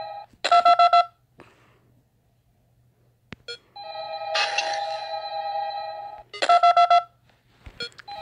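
Phone call dialing in the video game Five Nights At Candy's 2: bursts of rapid electronic dial tones alternating with a long steady warbling ring tone, loud and clean with no talking.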